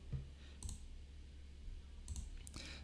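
Faint mouse clicks pressing an OK button in a software tutorial, two separate short clicks well spaced over a quiet low hum.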